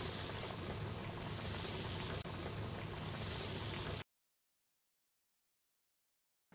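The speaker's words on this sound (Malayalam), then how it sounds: "ഇതുപോലെ നമുക്ക് ബാക്കിയുള്ള വടകൾ കൂടെ ഫ്രൈ ചെയ്തെടുക്കാം" Dal vada (parippu vada) deep-frying in hot oil, a dense, loud, steady bubbling sizzle that runs for about four seconds, then cuts to silence.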